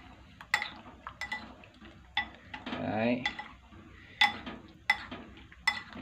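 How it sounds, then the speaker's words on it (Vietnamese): Tilapia being mixed with ingredients in a bowl before frying, with scattered sharp clinks of a utensil against the bowl and a short burst of stirring, while a voice speaks briefly. "Mình trộn đều như thế này á."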